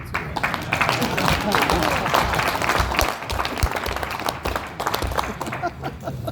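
Audience applause at a motivational talk, a broad continuous wash of clapping mixed with crowd voices and some talking, moderately loud and uneven in level.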